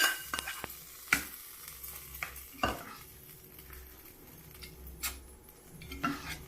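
Mustard seed tempering sizzles softly in oil for a capsicum palya, broken by sharp clinks and taps of a metal spoon against the pan, set at irregular intervals over a low steady fizz.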